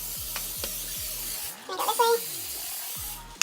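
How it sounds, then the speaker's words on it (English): Cooking spray hisses from a can onto a baking sheet in a couple of short bursts, heard close up beneath a steady background hum. "I just use cooking spray for it and just spray it all on the sheet"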